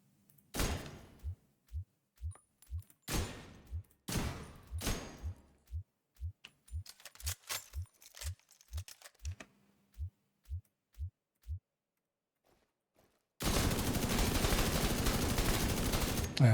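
Repeated gunshots in a video game, sharp single and double cracks firing at a steady pace for about twelve seconds, then a sudden burst of loud broadband noise at the end.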